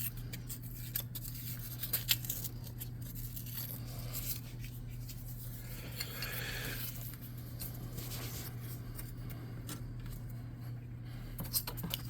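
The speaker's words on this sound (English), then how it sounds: "For this first one, I'll use scissors" Scissors snipping through foam core board to cut a rough circle for tabletop scenery, a run of faint, close, irregular cuts and scratches over a steady low background hum.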